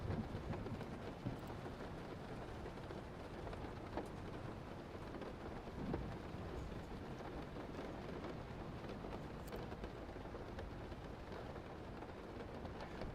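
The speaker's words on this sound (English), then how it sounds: "How do you get the rain sounds in the background?" Steady rain pours throughout, with soft low rumbles of thunder in the background and no voices.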